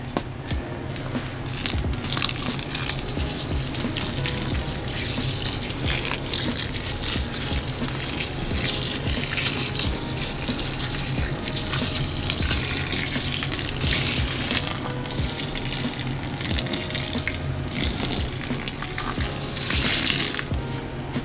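Hot water pours continuously from a jug, splashing steadily up close, a constant liquid rush lasting throughout, with no talking.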